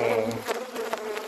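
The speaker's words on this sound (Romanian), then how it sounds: "Atacă albina telefonul, o să mă dau la o parte" A honeybee at a homemade pollen collector buzzing loudly right up against the phone, a close, wavering drone that shifts as it moves.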